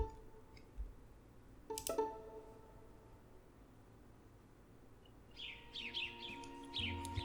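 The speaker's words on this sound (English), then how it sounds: "I hear birds chirping." Birds chirp in the video game Root Letter, with a few sharp, bright calls early on and then a flurry of higher twittering toward the end, all over a steady low ambient hum.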